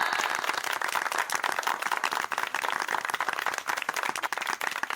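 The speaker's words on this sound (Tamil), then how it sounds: "ஜோரா ஒரு கைத்தட்டல் கொடுங்க பார்க்கலாம்." A studio audience at a televised reunion show claps in a dense, continuous burst that stays loud and even for the whole stretch, with no voices over it.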